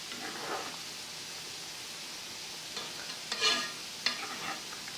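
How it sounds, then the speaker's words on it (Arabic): Eggs being stirred in a frying pan while cooking a budget beef-and-egg dish, with a soft sizzle underneath and a few brief scraping strokes of a utensil against the pan, quiet and close. "هقلب كويس لحد ما البيض يتقل معايا"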